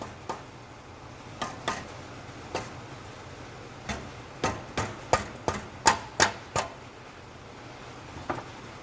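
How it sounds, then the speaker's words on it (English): A small mallet taps a Roush Mustang exhaust pipe into a snug fitting, with about a dozen sharp, separate metallic knocks. They come in an uneven run that clusters densely toward the middle, close and fairly clear, with no talk. "I get it lined up. Same trusty dusty little mallet."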